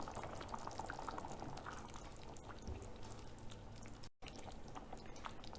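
Water bubbles and gurgles steadily in a cooking pot for a potato and peas pilaf, lemon juice added, a constant close simmering texture without any talking.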